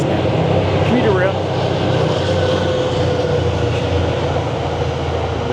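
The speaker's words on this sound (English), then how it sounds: "Those trains are purple and they're diesel." A purple diesel commuter rail train rumbles past on the tracks beside a community walking path, a steady loud roar throughout with a faint horn-like tone, while a person talks over it.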